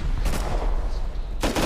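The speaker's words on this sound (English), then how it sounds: "Everybody's throwing rockets right now." Rocket and explosive fire during a compound raid in the survival game Rust, with two loud broadband blasts standing out from a constant rumble of ongoing battle.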